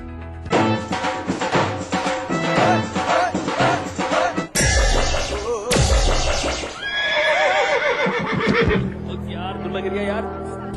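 A horse whinnies loudly in long shaky calls among music and talk in an advertisement mix.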